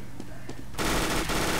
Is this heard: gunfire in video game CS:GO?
yes